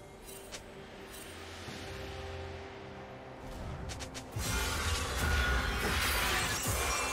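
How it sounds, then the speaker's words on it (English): A turret being destroyed in League of Legends: a loud crumbling, shattering crash bursts in about two-thirds of the way through and rings on over the steady layered game ambience, with no talking. "Blue team's turret has been destroyed."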